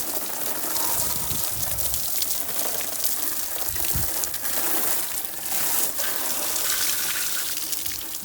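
A garden water hose spraying mud off a dirt bike, a steady broad hiss of water striking the bike and ground, continuous and close with small shifts as the spray moves.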